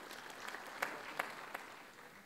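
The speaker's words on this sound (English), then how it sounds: "give him a round of applause." Faint, distant applause from a conference audience at a forum session, a soft wash of clapping with a few sharper claps standing out.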